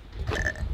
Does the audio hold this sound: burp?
yes